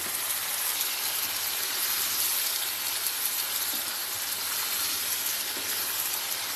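Goat brain gravy bubbles and sizzles in a pan, a steady, even hiss with soft crackles close by and no talking.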